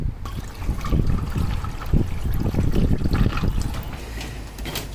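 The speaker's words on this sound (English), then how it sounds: "I'm gonna go ahead and run this cold water through it" Cold water from a hose runs over the engine of a BMW 318i E30 that is being tested with head gasket sealer. The splashing and trickling is steady and close, with no talking.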